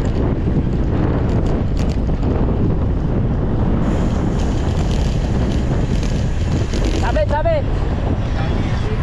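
Strong headwind roaring across the microphone while cycling on a long road ride, a constant loud buffeting rush throughout with a brief whistle-like squeal near the end.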